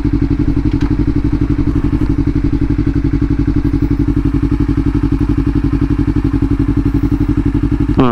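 A motorcycle engine runs steadily at a loud, close, even idle, its rapid firing pulses thumping continuously with no speech.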